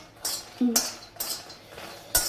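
A metal kadhai is taken off and set down, giving a few sharp clanks and scrapes of metal cookware at close range, spaced out over a couple of seconds.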